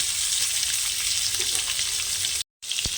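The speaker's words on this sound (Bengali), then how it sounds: "এবার আমি দিয়ে দেব কামরাঙা বা করভাঙা দিয়ে ভালো করে কষিয়ে নেব" Starfruit pieces sautéing in hot oil in a pan for a Bengali chutney, giving a steady, close hiss-and-crackle sizzle that cuts out briefly near the end before resuming.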